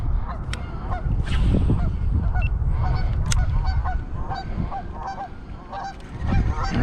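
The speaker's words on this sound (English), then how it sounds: "With all the geese making lots and lots of noise." A flock of geese honks loudly and continuously by a lake, many overlapping calls near and far over a dense, noisy background.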